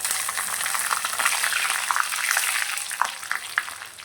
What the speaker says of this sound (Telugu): కరివేపాకు కూడా వేసుకోవాలి.